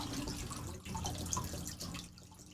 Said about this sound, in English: I'm taking out water as I'm pouring it in